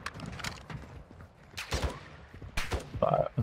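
Gunfire from the online shooter Call of Duty DMZ, in several short bursts of shots mixed with game effects, partly under players' voice chat.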